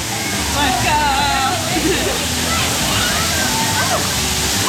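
Rushing, sloshing water of the Fearless River ride at Volcano Bay water park, a steady loud wash filling the whole clip with voices murmuring underneath.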